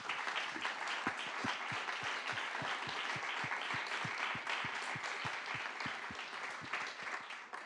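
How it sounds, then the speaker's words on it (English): A seated audience at an evening panel event on internet governance in Geneva claps for the panelists, a steady moderate round of applause with a few distinct louder claps standing out, fairly distant and continuous throughout. "please join me in giving them a round of applause"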